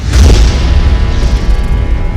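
An explosion at a running flour mill: a loud, heavy boom bursts out at the start, then a deep rumble lingers and rolls on for a couple of seconds with no voices.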